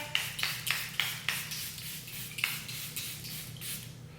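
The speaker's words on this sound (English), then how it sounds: "the final step is going to be to lock it all in with my Airbrush Flawless Setting Spray." A series of short, soft hissing sprays of makeup setting spray, a few quick bursts followed by a couple of longer puffs, close by and fairly quiet.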